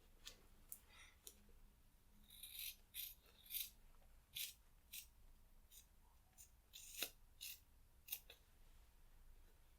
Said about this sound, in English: I'm going to go ahead and use some fabric scissors just to snip that off.